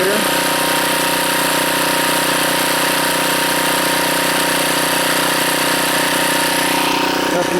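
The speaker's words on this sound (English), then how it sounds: "I am running the DC generator." A small gas engine turns a car alternator as a DC generator for charging forklift batteries, droning at a steady, loud idle-like hum with no letup, outdoors on a snowy homestead.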